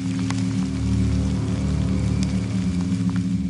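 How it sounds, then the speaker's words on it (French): Rain falls steadily on a surface, a dense continuous patter with scattered sharper drop hits over a low, constant rumbling background, with no voices. "Mais il pleut."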